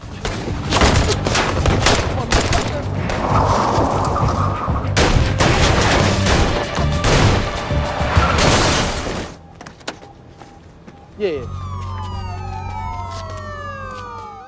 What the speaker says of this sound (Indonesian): Dan baku tembak pun terjadi.